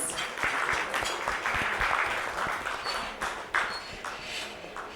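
An audience at an FMCG supply chain summit applauds a panel speaker. The clapping is steady and fairly soft, with individual claps standing out near the front before it gradually thins.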